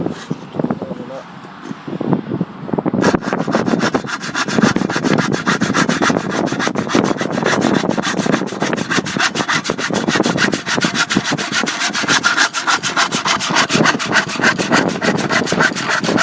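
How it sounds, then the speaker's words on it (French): A hand saw cuts through a dry wooden plank in fast, even back-and-forth strokes, loud and close, after a short stretch of quieter handling noise at the start. "normalement ça devrait aller vite à scier"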